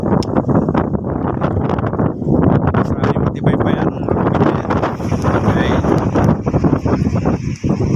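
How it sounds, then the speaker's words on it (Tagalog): Strong wind at a fishport in bad weather buffets the microphone in loud, continuous gusts, with a person speaking briefly underneath. "Lakas ng hangin"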